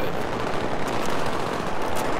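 Dense, continuous bursts of automatic gunfire in Battlefield 3 co-op rattle loudly and without pause, a heavy barrage filling the whole moment.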